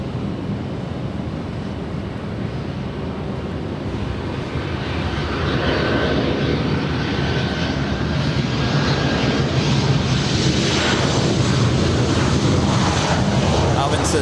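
Jet roar from an Austrian Airlines Boeing 777 airliner at LAX, a broad steady rumble that swells louder through the second half, with people talking at times over the engine noise.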